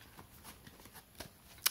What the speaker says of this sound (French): c'est un jeu qui va se mélanger comme ça